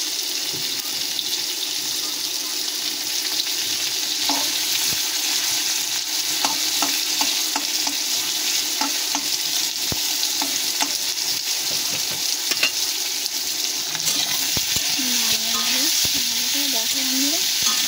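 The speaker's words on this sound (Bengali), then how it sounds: "দিয়ে পেঁয়াজগুলোকেও ভেজে নেব।" Potatoes and onions sizzle steadily in a hot pan, with scattered clinks of a utensil stirring and a few scraping sounds toward the end.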